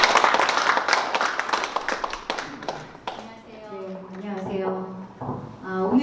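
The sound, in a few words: applause welcoming the speaker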